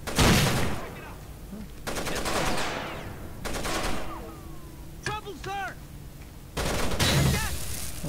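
Bursts of automatic gunfire in Rainbow Six Vegas 2 online Terrorist Hunt, several loud rapid volleys separated by pauses, with a few sharper single shots in between and players talking over the action.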